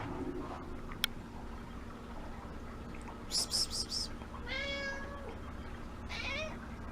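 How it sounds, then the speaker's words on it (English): A cat gives a few short meows and a longer drawn-out meow at close range, spread across a quiet room-tone background, with a sharp click early on. "There's my cat."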